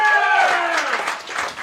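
A comedy roast crowd claps and cheers before the final round, with dense, fairly loud applause that blends into a crowd roar; a voice is heard briefly at the start.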